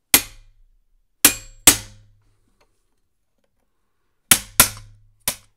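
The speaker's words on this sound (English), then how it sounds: "Try just a hammer and a chisel just to see if I can't bust it loose" Hammer blows on a chisel against the clutch of a vintage Remington chainsaw, six sharp metallic strikes in two groups of three with a pause between, each ringing briefly before fading.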